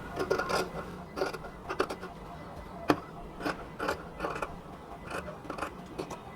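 Scissors snip repeatedly through extra cotton fabric at a kurti neckline, a regular series of crisp close cuts with short pauses between them and one sharper click midway.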